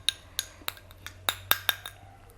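A spoon clinks against a bowl while stirring homemade night cream, about eight crisp metallic taps in an uneven rhythm, close and clear over a quiet background.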